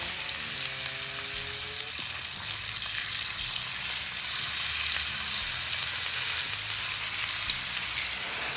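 Bacon strips laid on a hot Blackstone griddle sizzle in a loud, steady frying hiss, with a few faint clinks and scrapes over the top and no talking.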